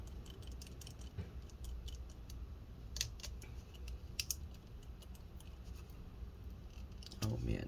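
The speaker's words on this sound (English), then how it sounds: "Hopefully you guys can see all the screws that are being removed." Small screws being backed out of an HP Spectre x360 15-bl075nr laptop during disassembly give faint, sparse clicks and ticks over a low steady hiss, with a slightly louder rattle near the end.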